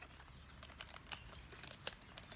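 Plastic bag crinkling as a rubber band is pulled up around its bottom to seal over butterfly bush cuttings; faint, sparse crackles and light rustles, close by, with no talking.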